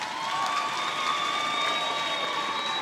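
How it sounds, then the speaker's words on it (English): Graduation ceremony crowd giving a warm round of applause for graduates, a steady even wash of many hands clapping at moderate distance with faint cheering. "I think we should give them a warm round of applause."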